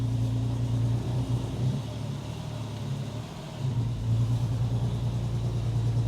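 A VW Passat R36 under restoration drives slowly, its engine giving a steady low rumble with a hum that dips briefly and then returns, heard from inside the dusty cabin with no talking.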